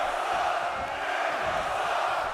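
Arena crowd at a wrestling match in WWE 2K17, a continuous roar of cheering and shouting, broad and steady, with no clear individual voices.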